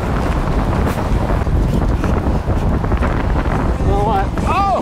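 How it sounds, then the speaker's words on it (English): Steady wind rumbles across the microphone throughout, loud and blustery, with voices faintly mixed in near the end. "It's a little bit windy."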